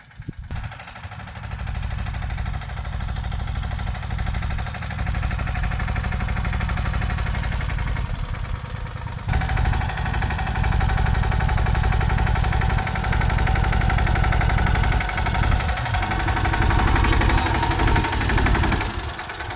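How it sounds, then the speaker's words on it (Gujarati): A tractor engine runs continuously with a heavy, rapid low knocking, loud and close, staying steady throughout. "ટ્રેક્ટર હાંકવા મળ્યા છે હવે"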